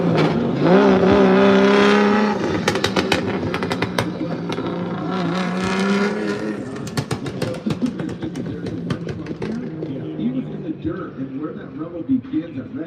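A Formula Drift car drifts on throttle during ProSpec warm-up at Utah, its engine firing and revving loudly with sharp pops, then fading under continuous commentary.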